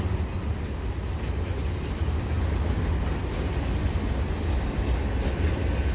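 A CP freight train of empty cars rolling past at Dorval, a loud, continuous rumble of wheels on rails with rattling and faint high wheel squeals coming and going.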